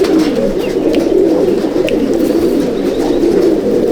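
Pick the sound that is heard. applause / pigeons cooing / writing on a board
pigeons cooing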